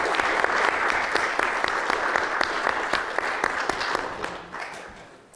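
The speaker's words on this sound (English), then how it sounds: "Please stand up for a big round of applause" An audience at a conference gives a sustained round of applause, dense steady clapping from many hands that slowly fades toward the end.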